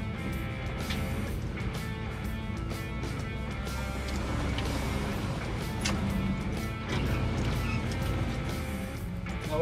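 An old Chevy truck off-road in second gear, engine roaring steadily as its wheels spin, a continuous loud drone with rising and falling effort throughout.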